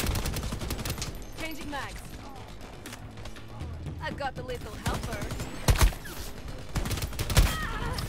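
Gunfire in the shooter game Shatterline: repeated bursts and single loud shots over busy game noise, with a couple of sharp louder blasts near the middle and end; a voice talks at times.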